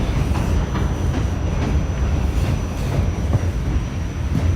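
Train passing near the Coney Island station in New York City, a loud continuous rumble of rail wheels with faint rhythmic clatter and a thin high squeal, close and steady throughout.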